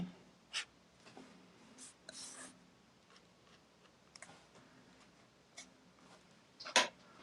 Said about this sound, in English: with a darker color, add more shadows. The brush pen is from Tombow.